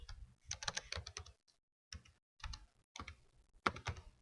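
A spelling word goes in on a computer keyboard during a Quizlet review game: close bursts of fast key tapping, separated by short silent pauses.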